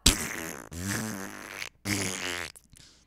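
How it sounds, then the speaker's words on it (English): A fart sound effect plays during a live radio talk show: three long, loud, buzzy blasts in a row, with no talking over them, followed by a short, fainter sputter at the end. "She almost stabbed the man over a fart."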